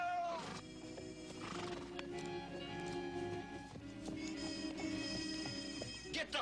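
Horses whinny and neigh amid the clatter of hooves during a western-style charge, with the neighs fairly close and layered over a steady background din.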